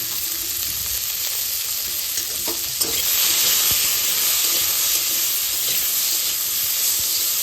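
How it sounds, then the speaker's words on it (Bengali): Vegetables frying in a pan for a mild fish curry, a dense, loud, even hiss of oil that swells slightly midway, with a few faint stirring taps and no speech. "সবজিটা একটু ভাজা ভাজা হয়ে যাওয়ার পর"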